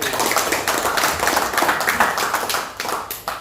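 An audience at an association gathering in Banten claps together in sustained, dense applause that fills the whole stretch at close range.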